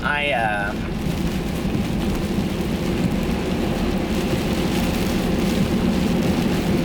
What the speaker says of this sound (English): this rain is like so bad